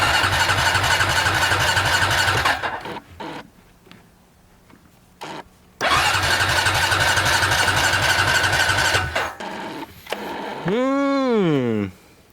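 A Honda Rancher 350 quad engine cranks in two long rhythmic bursts of starter chugging, separated by quieter gaps, followed by a short rising-and-falling whine near the end.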